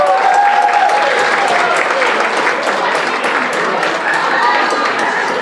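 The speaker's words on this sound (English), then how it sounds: "Let's give them a big round of applause." A crowd at the Hope Gala 2023 applauds loudly and continuously, with dense clapping and some cheering that stays strong for several seconds.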